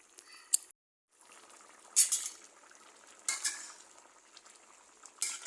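Beef with spices stir-fried in a pan, with a low sizzle and several sharp scrapes and clinks of a spatula against metal, one brief pause, no talk.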